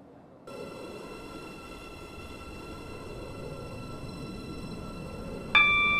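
A steady rumbling train interior hum with faint tonal whine in a Roblox train game, Newry to Connolly service, ending in a sudden brighter chime-like tone near the end.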